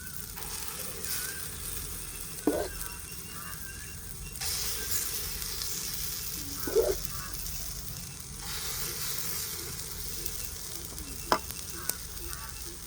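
Kundu dosai fry in sesame oil in a pan, a steady close sizzle with a few sharp taps and small crackling bursts on top, and no one speaking.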